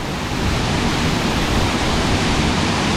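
Bomuru waterfall, the eleventh fall in the Bomuru chain, roars as a loud, dense, unbroken rush of falling water close by, with no voices.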